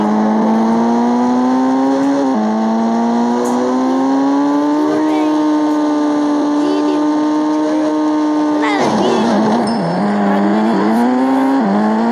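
Car pulling away fast, a loud rising engine whine that holds steady and then surges again near the end, with voices talking over it.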